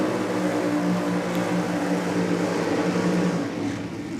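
Nitro drag racing car doing a burnout at a drag strip, a loud, sustained, dense engine roar with harsh broadband noise that holds steady for about four seconds, then eases slightly near the end.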